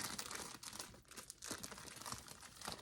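An item is shoved into a plastic shipping bag, giving close, continuous crinkling and rustling of the plastic with small crunchy peaks, no talking.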